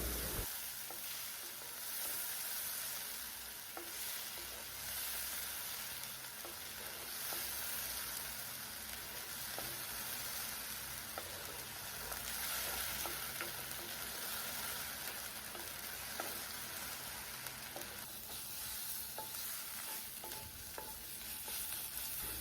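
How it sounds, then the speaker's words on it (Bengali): A ginger, garlic and onion paste fries in a pan for a potato and pointed gourd curry, giving a steady rain-like sizzle with frequent light stirring ticks throughout, quiet and with no voices. "এই পেস্টটা দেওয়ার পর ভালো মতো কষে নেবো"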